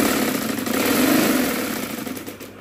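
Sewing machine running steadily while stitching a long golden-coloured cover, a close, even mechanical hum that swells slightly midway and then eases off.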